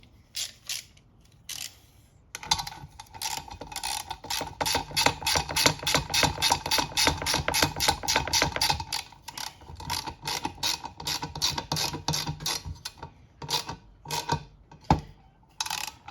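A nylon lock nut being tightened on a lawn mower gives off a steady run of rapid, evenly spaced ratchet clicks, loud and close, with brief pauses at the start and near the end and no talking.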